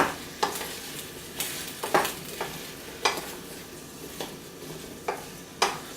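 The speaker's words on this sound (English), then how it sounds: "you can hear they're starting to cook, and I just stir it." Steady frying sizzle in a pan, with periodic scraping clatters as the contents are stirred every second or so, close and fairly quiet.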